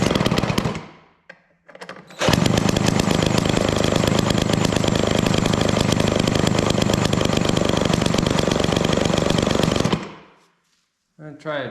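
A vintage Homelite Zip chainsaw with a stuck, fuel-starved engine coughs briefly, then runs loud and ragged for about eight seconds close up before cutting out, with a short sputter after.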